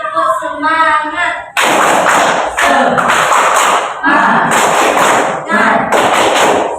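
A classroom group claps a loud, rhythmic cheer in several short bursts, each a quick patterned run of claps. A brief spoken line opens the sequence, and voices call out in the gaps between bursts.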